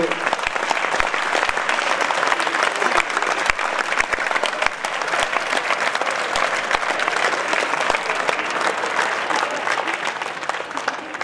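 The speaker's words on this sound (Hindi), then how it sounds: "तभी तालियां बजी थी" Sustained applause from a school audience at an award ceremony, dense and steady clapping filling the hall from start to finish at an even loudness.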